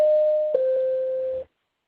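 A teleconference warning signal: two steady electronic tones in a row, the second slightly lower, sounding cleanly with no talk, then cutting off into silence.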